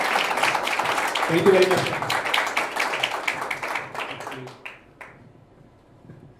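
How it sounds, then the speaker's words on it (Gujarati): Audience applause at a live talk show, bursting loud and close before thinning out as a guest speaks. "સો એક વખત જોરદાર તમારા તાળીઓના ગડગડા સાથે બોલાવીશું હેમંત હવે"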